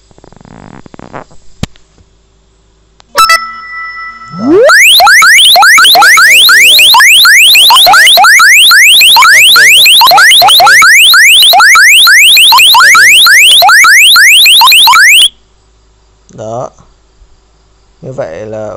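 A phone's anti-theft alarm goes off when its charger is unplugged. It blares for about ten seconds as a loud, rapidly repeating sweeping siren tone, then cuts off abruptly, leaving a few faint chirps.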